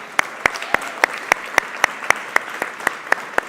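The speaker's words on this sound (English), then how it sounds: "Let's give them another round of applause." Evenly spaced, sharp claps repeat at a steady beat for a few seconds, like a conference audience clapping in unison at a live tech event in San Francisco, with no talking over them.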